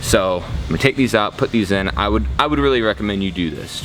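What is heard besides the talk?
No everyday noise stands out behind the speech.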